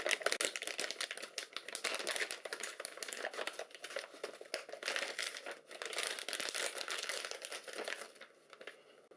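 Plastic motherboard packaging for a tiny ITX board crinkles and rustles continuously and up close, with dense irregular crackles and no voice.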